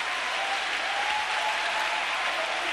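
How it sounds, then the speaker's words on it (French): A church congregation claps and cheers for Jesus during a bilingual French-English evangelical sermon, with dense, sustained applause filling the whole space from start to end. "Let us clap for Jesus."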